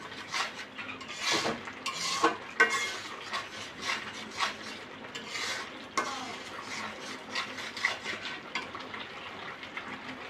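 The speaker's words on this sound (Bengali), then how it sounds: "মশলাটা যতক্ষণ তেল ছাড়বে না ততক্ষণ নেড়ে নেবেন" Masala being stirred in oil in a pan for a pabda fish curry, with a steady run of soft scraping and clinking strokes over a low bubbling sizzle, moderately close, with no talk.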